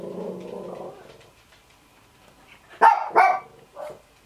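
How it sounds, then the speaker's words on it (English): Dogs bark indoors: three or four sharp, loud barks in a quick cluster after a stretch of quiet, with a faint, muffled murmur before them. "the dogs are just bloody bad"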